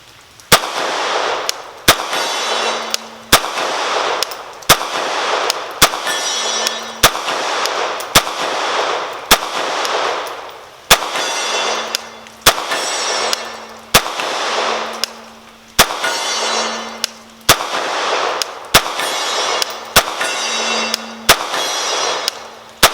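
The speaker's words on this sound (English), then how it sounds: "That's 75 yards we're shooting at here" A CZ Scorpion Micro Evo 3 S2 pistol fires about twenty sharp, loud shots at an outdoor range, spaced roughly a second apart in an even rhythm, each followed by a ringing echo; no talk.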